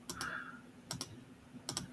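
Three small clusters of quick keystrokes on a computer keyboard, soft and close, with quiet pauses between them.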